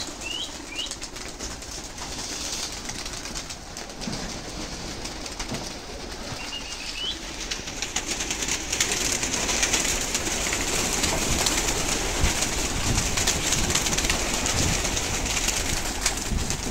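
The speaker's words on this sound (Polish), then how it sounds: "W rynku gołębie." Pigeons at an outdoor poultry market in Mszczonów, with soft wing flaps and faint calls over steady ambient noise; cooing itself is not distinct.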